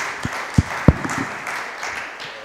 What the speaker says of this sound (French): je crois qu'on peut applaudir nos deux orateurs